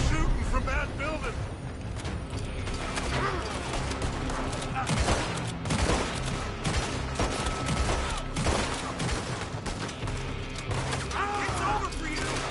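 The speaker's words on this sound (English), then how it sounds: "They're shooting from that building." Scattered gunfire and impacts in a shootout in Red Dead Redemption, with enemies firing from a building, continuous and busy throughout, under frequent talking.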